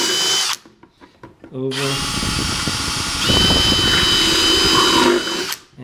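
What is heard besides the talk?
drill bit drilling into acrylic plastic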